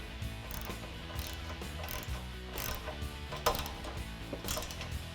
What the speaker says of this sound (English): go ahead and drive them home with your Allen key and your socket or wrench